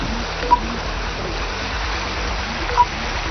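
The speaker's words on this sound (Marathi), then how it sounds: "वैनगंगा नदी दुधरी भरून वाहू लागली" Continuous rushing water with a broad, churning roar, steady throughout from the flooded Wainganga River flowing bank-full nearby, with two brief beeps.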